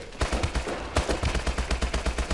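Rapid gunfire from the video game Call of Duty Advanced Warfare, a burst of sharp, loud shots at a fast, fairly even rhythm over about two seconds, with no talking.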